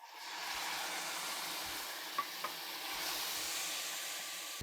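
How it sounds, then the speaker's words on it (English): Wine poured into a hot pan to deglaze it while cooking sausage bolognese, giving a soft, steady hiss and sizzle with a couple of faint clinks, fairly quiet throughout. "I'm going to deglaze the pan with the wine."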